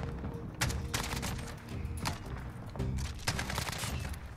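Rapid bursts of AK-47 fire from a gold-skinned rifle in the first-person shooter Modern Warfare, loud sharp volleys repeating in clusters across a busy multiplayer match.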